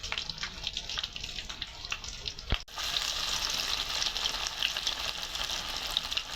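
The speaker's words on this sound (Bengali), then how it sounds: "এখন ভাজতেছি পেঁয়াজি" Onion fritters (peyaji) deep-frying in a pan of oil give a steady, close hiss and crackle with scattered pops, briefly broken by a sharp knock before the sizzle continues unbroken.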